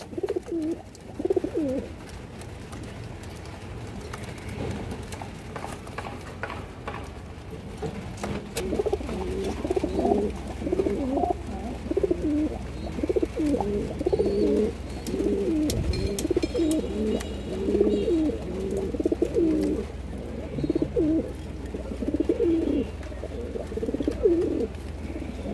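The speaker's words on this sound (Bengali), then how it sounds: "এখানে একটা খাকি পেয়ার আছে মাশাআল্লাহ, সিলভার খাকি কবুতর।" Silver khaki pigeons coo in repeated soft, throaty phrases, close and clear over a constant low hum, the calls growing thicker and more frequent partway through.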